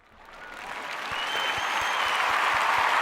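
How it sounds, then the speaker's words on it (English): A round of applause rises quickly from quiet and settles into a steady, full wash of clapping, with a faint low thumping beneath it and no one speaking. "Let's give you a little round of applause for that."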